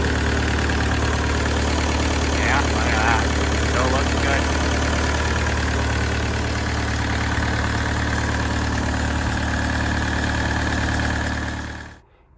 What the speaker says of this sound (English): So that was the cold start on the 1969 Nuffield 65 horse diesel tractor.